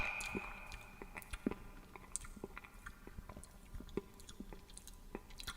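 Close, quiet ASMR chewing of ice cream with wet lip smacking, soft irregular squishy mouth clicks and smacks spaced through the stretch with no talking.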